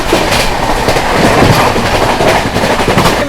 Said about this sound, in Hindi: Overtaking golden temple mail.